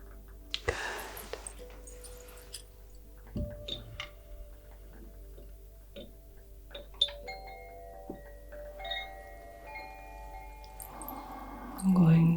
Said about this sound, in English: move through with some chimes